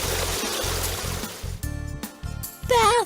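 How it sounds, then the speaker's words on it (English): Bath water trickling and gurgling in a kids' bathtime scene, short pulsing bursts of close water sound mixed with musical tones and a brief whistle-like glide at the end. "Bath water!"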